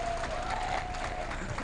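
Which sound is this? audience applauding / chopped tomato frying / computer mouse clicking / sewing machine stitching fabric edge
audience applauding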